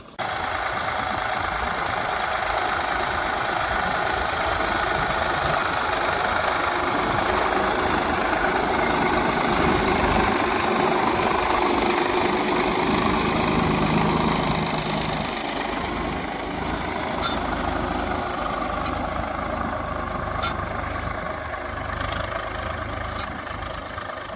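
A tractor engine runs steadily throughout, a loud continuous diesel rumble with a rattling, knocking texture and no talk.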